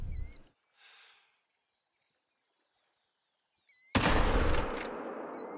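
A single loud 45-70 rifle shot booms in The Hunter: Call of the Wild after a quiet stretch of hunting ambience with faint bird chirps, and its rumbling echo trails off afterward.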